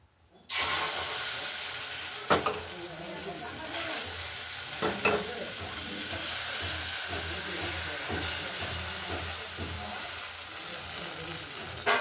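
Steady, close sizzling of flatbread frying in oil, with a few sharp scrapes or taps of a utensil against the pan along the way.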